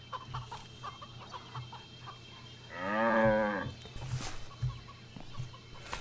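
A beefy cow in the game CHKN gives one long, loud moo at mid-clip, with scattered chicken clucks and game ambience around it.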